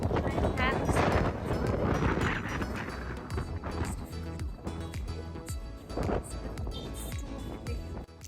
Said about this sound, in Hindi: इतनी ज़ोरों की हवा चल रही थी